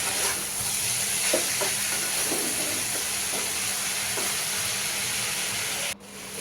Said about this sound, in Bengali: মশলাটা দিয়ে একটু কষিয়ে নিচ্ছি নেড়ে ছেড়ে।